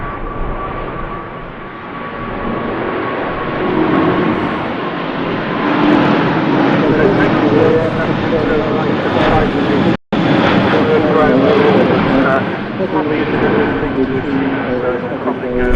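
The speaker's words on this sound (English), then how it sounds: "And the Emirates A380 opts in to go around, you saw it." An Emirates Airbus A380 goes around at Manchester Airport in strong winds, its engines building to a loud, sustained roar with gusting wind noise, while a commentator talks over it.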